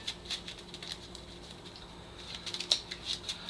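Trading cards are shuffled by hand in a rapid, soft patter of riffling and sliding cards, close and continuous and growing slightly louder toward the end.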